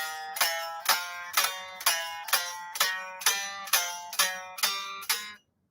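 Guitar played through an amp with no clean setting, a deliberately bad example: nine evenly spaced strummed chords, each a sharp bright attack that decays quickly, played alone and close with no talking.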